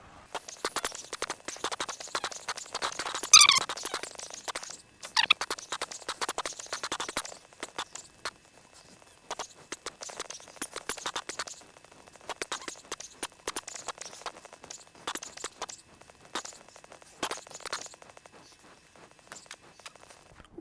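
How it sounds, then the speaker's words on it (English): Horses in the Minecraft game mill around nearby, their dense clip-clop hooves and scraping steps pattering continuously at moderate volume, busiest early on and then steadier. "It's just me and a bunch of horses, so let the leather factory open."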